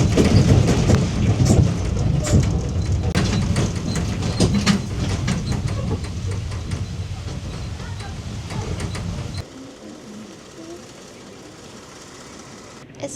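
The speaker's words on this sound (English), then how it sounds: "it's called a train, but it's not really a train, but it takes you around the whole Versailles estate" Small tourist road train on wheels rumbles and rattles around the Versailles estate, a steady bumpy rolling noise that drops away sharply near the end, with faint talk.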